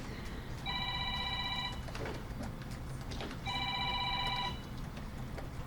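Electronic telephone ring in a meeting room, two separate chirping trills about a second long each with a pause between, fairly loud over a low room background, no talk.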